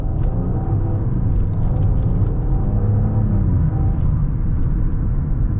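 A 2015 Maserati Ghibli in sport mode, heard while driving as a steady, loud low engine drone and road rumble that stays constant throughout, with no voices.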